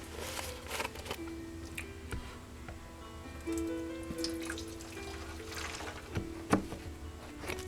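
Simple Green cleaner trickles and splashes into a rusty Honda motorcycle gas tank, a thin uneven pour with small drips and a sharp clank partway through, fairly faint and close.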